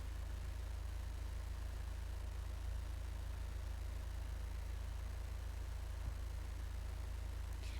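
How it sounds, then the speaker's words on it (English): A truck engine labours uphill on a dirt trail in the National Park simulator game Ranger's Path, a faint, steady low drone running unbroken and without talk. "The truck does not want to go on the hill."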